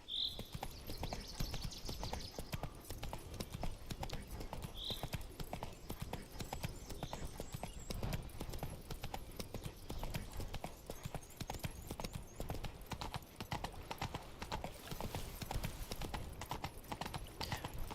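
Horse hooves clip-clopping steadily on a dirt road in The Witcher 3: Wild Hunt, a continuous rhythmic gait heard up close throughout, with a faint whinny near the start.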